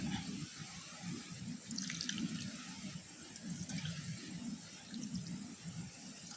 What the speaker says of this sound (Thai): วันนี้เขาจะใส่น้ำนะพี่น้องเนาะน้ำที่เขาต้มนี่แหละ